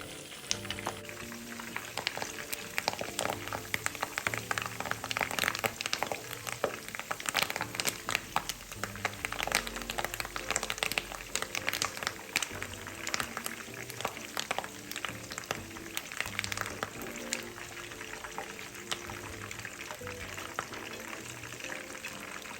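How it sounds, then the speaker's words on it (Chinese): Curry leaves frying in hot oil over high heat alongside pieces of meat, a dense continuous crackling sizzle with sharp spattering pops throughout, close and loud with no voices. "再将咖喱叶加入油炸"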